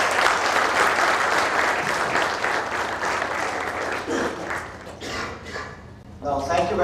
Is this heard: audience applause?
yes